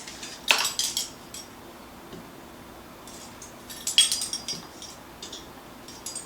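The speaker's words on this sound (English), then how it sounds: "just mix this a little bit so it's mixed in." Egg whites being mixed with salt and vanilla in a bowl for chewy coconut macaroons: a few clinks and scrapes of a utensil against the bowl come in two short bursts separated by quiet pauses.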